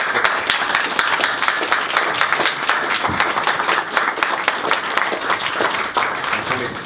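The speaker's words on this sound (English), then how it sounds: "a round of applause for Tony Zappala" Audience applause at a Startup Grind Dublin evening talk as Tony Zappala of Highland Capital Partners Europe comes on stage, a steady dense wash of clapping from a standing crowd that holds at even loudness throughout, with some voices mixed in.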